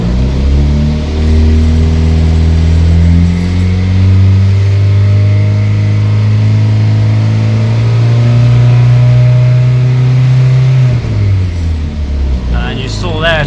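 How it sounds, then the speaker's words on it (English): Classic Mini with a turbo engine pulling through rising revs in several gear-change steps, a loud close drone that climbs repeatedly, then eases off as the throttle lifts near the end. "So as I accelerate,"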